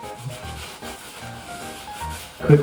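Hands rub across a face before clown makeup goes on, giving a soft, close, continuous brushing and rubbing with a slightly louder swipe at the end; no talking.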